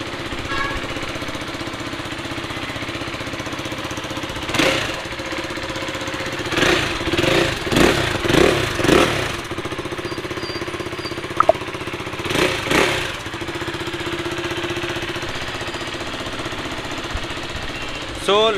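A second-hand KTM RC 390 motorcycle idles steadily at a used bike dealer in Hyderabad, with several sharp throttle revs rising above the idle, including a cluster of quick blips in the middle.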